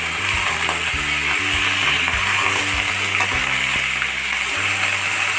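Potatoes and taro stems sizzle steadily in a hot pan with oil, a loud continuous frying hiss up close, with low tonal background music running underneath throughout.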